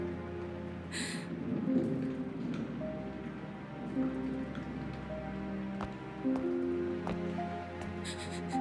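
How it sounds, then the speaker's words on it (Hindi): Steady heavy rain with rumbling thunderstorm in the background, a continuous wash of downpour with low thunder rolls, loud and close throughout with no talking. "तूफान खत्म हो जाएगा"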